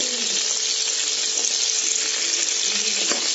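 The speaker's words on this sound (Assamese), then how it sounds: "মাছ ভজা কেৰাহীখনতে ৰৈ যোৱা তেলখিনিত আমি এতিয়া এফুটমান নহৰু দি দিলোঁ।" A little garlic goes into the hot oil left in a kadai after frying fish, and it sizzles loudly and steadily with a bright, even hiss up close and no voices.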